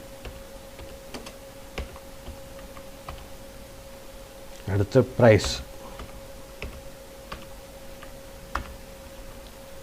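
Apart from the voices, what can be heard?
typing text on a computer keyboard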